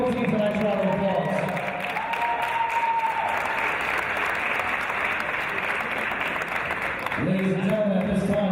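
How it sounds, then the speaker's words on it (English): A crowd applauds and cheers throughout at a women's college basketball championship final in the CUNYAC/ConEd series. The clapping is steady and full, and an announcer talks over it at the start and again near the end. "Let's give both teams a nice round of applause."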